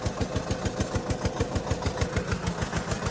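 A tractor engine, apparently a 3630 on 18.4/30 tyres, runs in a flooded paddy field, giving a steady, rhythmic low thumping at idle-like speed, close and continuous with no voices.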